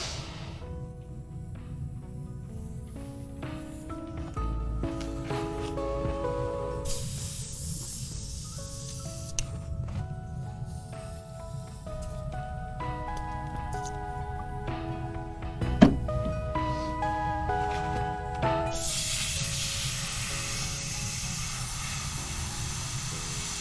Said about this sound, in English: I'm spraying rinsed paint water into a paper towel.